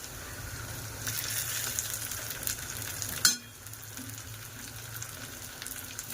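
Tomatoes sizzling in a hot pan for a dried Bombay duck curry, a steady close fry with a brief sharp clatter midway before the sizzle settles quieter.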